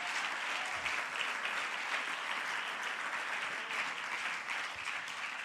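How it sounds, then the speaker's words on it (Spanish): A church congregation applauding during a sermon, dense sustained clapping from many hands that stays even throughout, heard at a moderate distance. "Fuerte el aplauso al Señor."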